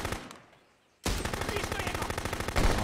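Rifle gunfire from Contraband Police erupts after a second of fading quiet, a loud sustained string of rapid shots continuing to the end.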